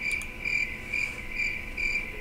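Crickets chirp steadily close by in regular pulsing trills, a bright, continuous insect chorus with no voices.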